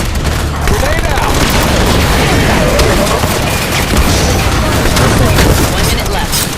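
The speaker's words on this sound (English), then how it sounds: "Grenade out!" A grenade blast erupts amid continuous heavy gunfire and booming impacts in a Halo 5 Firefight match, loud and dense throughout, with players' voices mixed in.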